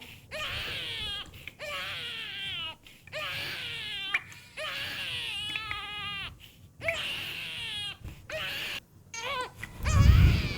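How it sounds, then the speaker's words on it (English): A baby cries in repeated wailing bursts with short gasping pauses, loud and close, as a sound effect in a binaural narrative performance; a low thump comes at the end. "Then my baby brother began to cry."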